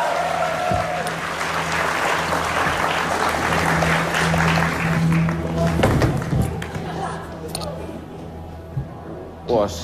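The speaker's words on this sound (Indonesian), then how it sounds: "Tepuk tangan yang meriah." Studio audience applause at a comedy talk show, a dense, steady burst of clapping that fills most of the stretch and then thins and fades toward the end.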